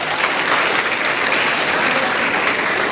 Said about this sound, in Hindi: वेरी गुड, जोरदार ताली बजाओ।